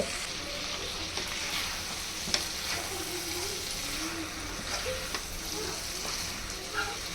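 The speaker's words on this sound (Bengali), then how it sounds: "এখন দিয়ে দিব কেটে রাখা বেগুনগুলো। সবগুলো একসাথে একটু নেড়ে নিব।" Cut eggplant pieces are stir-fried together with browned potatoes in a pan for a boal fish curry, giving a steady, close sizzle with light scraping stirs throughout.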